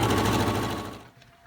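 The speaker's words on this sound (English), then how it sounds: "I'm going to go ahead and get sewing on this and have it go." An embroidery machine stitches a design onto a towel with a rapid, steady mechanical chatter that runs loud and close, then fades out after about a second.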